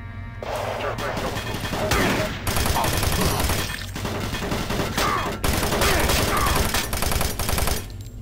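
Sustained rapid gunfire from Doom 3 fills the whole stretch, dense and loud with a steady roar of shots, briefly dipping near the middle before resuming at full intensity.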